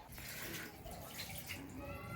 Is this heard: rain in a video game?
no